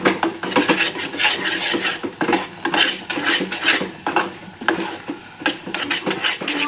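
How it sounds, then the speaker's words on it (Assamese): A metal spoon scrapes and knocks steadily around a pan while rice flour is stirred in bit by bit for modak, a rhythmic close-up clatter with no talking. "মই অলপ অলপ চাউলৰ গুড়ি দিছোঁ, অলপ অলপকৈ লাৰি আছোঁ।"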